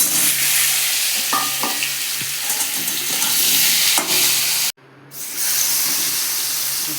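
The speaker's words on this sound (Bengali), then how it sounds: "পটলটাকে ভেজে নিচ্ছি।" Pointed gourd (potol) rubbed with salt and turmeric frying in hot oil, a loud continuous sizzle with scraping stirs and clinks, cut by a brief silent gap before the sizzling resumes.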